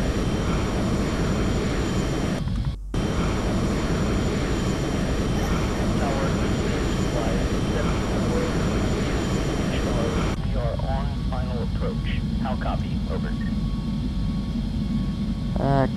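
An Airbus A380 descends toward Edmonton in Flight Simulator with a loud, continuous jet engine roar and rumble, while voices talk over it throughout.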